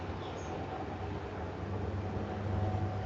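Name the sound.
traffic noise on a Delhi road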